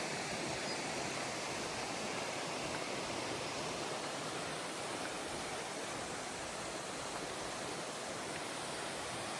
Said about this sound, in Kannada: ನೀರು ಹರಿತಾ ಇರೋ ಸೌಂಡ್ ನೋಡ್ರಿ